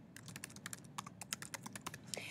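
Typing on a computer keyboard: quiet, irregular clicking keystrokes in uneven bursts, close and alone with no talk.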